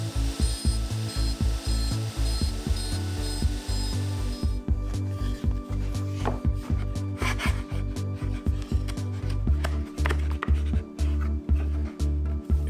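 CNC router cutting wooden parts for offset-handle nesting trays: a steady, loud machining drone with dense rhythmic cutting pulses, continuous with no talking.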